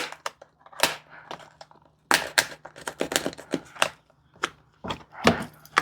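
A blade cuts a slit into a plant branch for air layering, producing close, irregular crunching snaps and scrapes in short bursts separated by brief quiet gaps.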